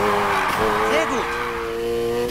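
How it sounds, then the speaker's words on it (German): A car drifts in the racing game Need for Speed Heat, its engine holding a steady high whine with rising tire squeal over a continuous loud bed of game audio, while a voice talks over it. "Du driftest."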